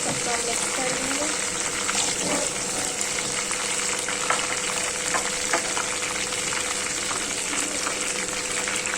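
Whole red chillies, curry leaves and spices sizzle and crackle in hot oil in a pan while being stirred, a steady, close frying hiss with occasional scraping clicks.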